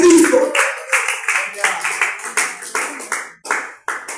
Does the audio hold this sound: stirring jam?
no